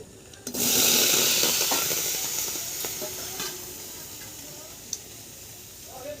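Cut potatoes drop into hot oil in a wok on a gas stove, bursting into a loud sizzle that gradually settles into a softer, steady frying hiss with occasional small pops and clicks.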